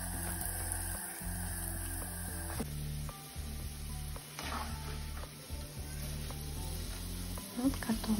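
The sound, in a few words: grated potatoes frying in hot oil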